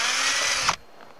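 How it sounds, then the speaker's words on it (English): A power drill bores holes into a boat's bow for a 3-inch bow mount, whining steadily up close before spinning down and stopping, leaving near silence. "We're gonna drill them out."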